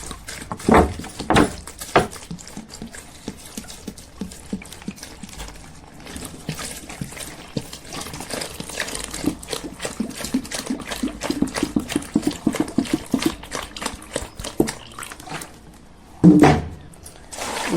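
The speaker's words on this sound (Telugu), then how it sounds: "2 లీటర్లు పోస్తున్నానండి." Two litres of drinking water poured into a pot holding aloe vera for a homemade natural shampoo, a continuous close trickling splash with a louder gush near the end.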